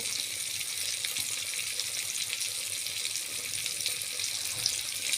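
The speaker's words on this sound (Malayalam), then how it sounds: "ആ എണ്ണയിൽ കിടന്നിങ്ങനെ വറുത്തുകൊണ്ടിരിക്കുകയാണ്" Steady, dense sizzling of fish frying in hot oil, continuous and fairly close, with no talking.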